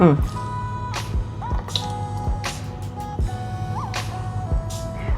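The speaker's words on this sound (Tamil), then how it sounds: "பருப்பு தண்ணி விடுறேப்பா" Lentil cooking water poured into a pot of simmering onion rasam: soft dripping and splashing liquid sounds under a person talking, with a steady tonal hum in the background.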